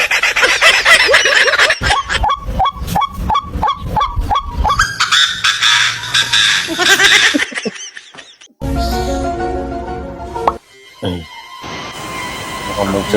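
Chickens and geese cluck and honk close by in a rapid, rhythmic run of loud calls, followed by mixed squawks and other noises in the back half.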